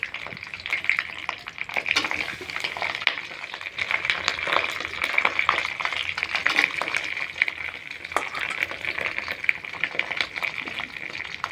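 Jaggery cooks in a pan over low-medium heat while being stirred, giving a steady, soft sizzle with faint scraping throughout, close by and with no talking.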